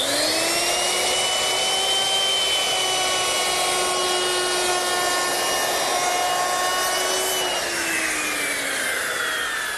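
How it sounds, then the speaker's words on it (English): A handheld router cuts a bullnose along a wooden edge, a loud, steady high-pitched whine with layered harmonics that holds for several seconds, then drops in pitch near the end as the bit slows or eases off the cut. "you might think that you can make that bullnose with your handheld router"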